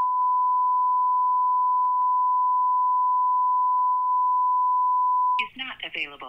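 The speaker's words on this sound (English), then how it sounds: "At the tone, please record your" A voicemail system's recording tone: one long steady beep held for about five seconds with a few faint clicks over it, then a voice starts talking right after it ends.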